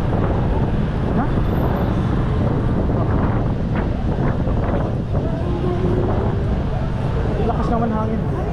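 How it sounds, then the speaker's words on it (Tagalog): Strong evening wind in Zamboanga City buffets the microphone in a constant rumbling roar, with voices talking faintly underneath. "Lakas naman hangin."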